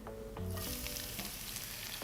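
Three onions, sliced long and thin, sizzle steadily in coconut oil in a home kitchen, a dense, close frying crackle that runs throughout with no talk over it.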